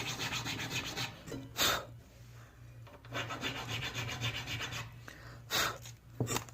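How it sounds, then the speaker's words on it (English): A metal file rasps back and forth in the slot of a bone nut on an acoustic guitar during setup, giving short dry scraping strokes in bursts with brief pauses, close and fairly quiet. "These files are pretty sharp. That's a bone nut."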